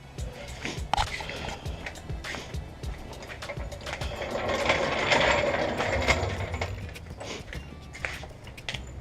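Ratchet clicking close by while removing a bolt from a 2006-2011 Honda Civic Si axle, irregular bursts of clicks mixed with metallic clanks and handling noise.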